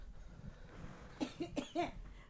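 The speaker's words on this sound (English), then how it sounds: "Now you're making me cough." A short burst of three or four coughs from one person, close and fairly quiet, arriving in quick succession after a soft murmur.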